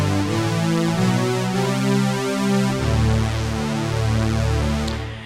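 Simple sustained synth pad notes from the Discovery Pro plugin playing a Nord Lead fifth patch, with layered chords shifting steadily at a constant loud level and no voices.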